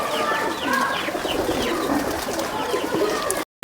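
Pigeons at a fancier's loft coo steadily and close by, low rolling calls repeating throughout, with a brief dropout near the end.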